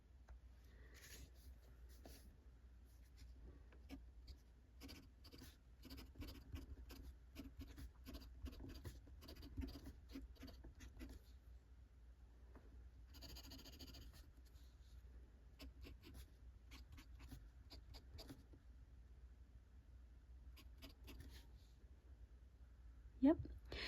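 An IWI Concision fountain pen writes on paper with a scratchy feedback, giving faint, close scratching strokes in irregular bursts across a quiet room, with a brief louder handling knock at the end.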